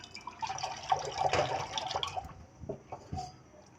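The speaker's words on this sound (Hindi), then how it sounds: "3 कप दूध में 2 कप पानी डालने के बाद ये बन जाते हैं 5 कप।" Water poured into milk for tea, two cups of water into three cups of milk, with a splashing, trickling stream and a few drips near the end. No voices.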